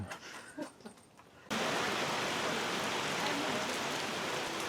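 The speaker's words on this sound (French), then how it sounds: "il s'est mis à pleuvoir de manière assez forte" A faint outdoor ambience in Kyoto, Japan suddenly gives way to a dense, steady hiss of heavy rain pouring down, continuous and close.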